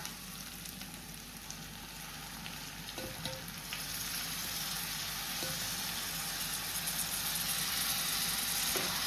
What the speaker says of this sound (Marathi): आता तितून हांव घालता मॅरिनेट केली सुंगटां.